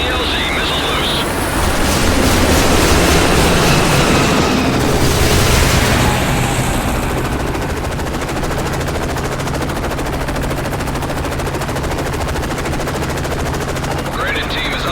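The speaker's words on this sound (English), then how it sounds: "We're taking fire!" Heavy automatic gunfire crackles nonstop in a Call of Duty Modern Warfare cutscene during a helicopter landing under fire, loud and dense, with a steady rotor drone and shouted voices beneath.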